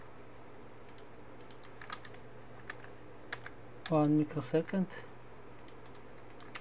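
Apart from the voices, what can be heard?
typing on a computer keyboard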